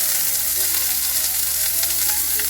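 A cod fillet sizzles skin-side down in a hot pan as it is pressed, giving a loud, continuous, even frying hiss that fills the whole moment with no voices.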